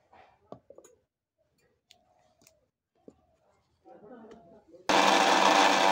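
A mixer grinder blending coriander leaves into chutney starts up suddenly near the end, loud and steady, after a stretch of quiet handling clicks and a voice speaking.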